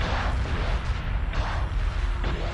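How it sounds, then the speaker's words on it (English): A spaceship explodes in the space strategy game Homeworld 2 Remastered, heard as a dull, rumbling boom that rolls under a dense, noisy wash of game sound. "Looks like a small explosion, but don't let that, you know, fool you."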